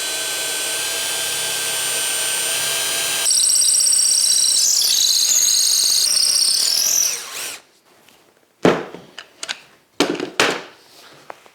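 A Famag woodworking drill bores through wood with a steady, loud whine that rises in pitch partway through the cut. The motor then stops, followed by a few sharp knocks and clatters of handling.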